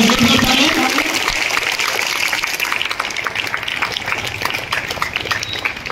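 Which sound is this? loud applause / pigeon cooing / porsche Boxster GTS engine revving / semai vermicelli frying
loud applause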